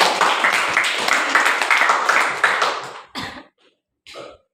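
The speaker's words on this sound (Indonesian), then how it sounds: "tepuk tangan dong buat Raffi." A classroom of students claps for about three seconds, a lively patter of hands that stops abruptly, followed by a couple of short isolated sounds and silence.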